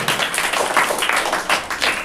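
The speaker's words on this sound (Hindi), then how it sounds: "तो तीसरे सीन को लिए आप लोग जोरदार ताली बजाएं।" An audience at a staging of the Hindi play Andher Nagari Chaupat Raja claps between scenes, a dense, continuous patter of many hands close by, with no talk.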